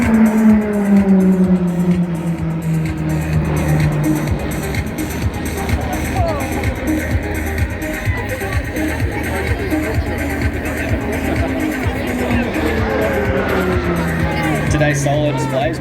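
RAAF Roulettes aerobatic aircraft fly past at the Central Coast Airshow. A loud, continuous engine drone rises and falls in pitch as the planes sweep by, with a commentator talking over it throughout.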